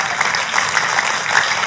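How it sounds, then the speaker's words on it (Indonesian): A church congregation applauds, with dense, steady clapping filling the room and a few voices mixed in. "Kalau mau tepuk tangannya lebih meriah buat Yesus Tuhan kita"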